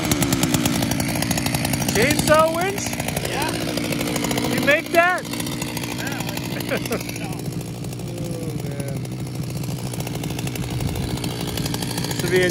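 A chainsaw-powered winch runs continuously at a steady buzzing idle, close and loud, with a few rising revs and some faint voices under it.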